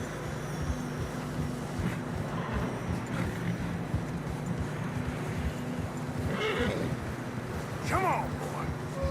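Horses in Red Dead Redemption 2 push through deep fresh snow on a narrow trail, with a whinny rising near the end over a steady wash of movement and wind; a voice speaks over it.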